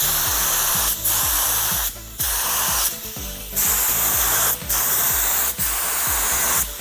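A paint spray gun lays pearl base coat onto a Ford Lightning truck bedside in loud, close bursts of hissing spray, about six passes separated by brief pauses, with a low hum underneath.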